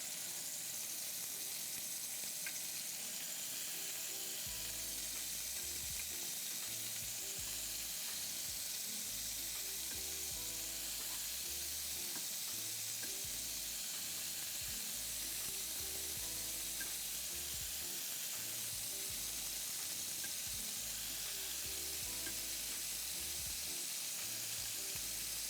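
Beef rouladen with onions and olives fries in a pan, giving a faint steady sizzle with low crackling underneath and the occasional clink as food is stirred, without talking.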